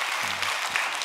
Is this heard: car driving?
no